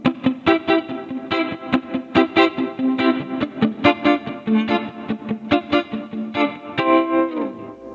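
Clean electric guitar picking a melodic line through a reverb pedal on its tremolo setting, notes pulsing rapidly in volume, with a spacious reverb wash.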